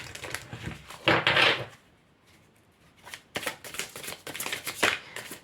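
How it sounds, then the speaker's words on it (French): A tarot deck being shuffled and cards drawn, with brisk riffling bursts near the start and again in the second half, close by, separated by a short quiet pause. "Je vais tirer une carte pour le conseil."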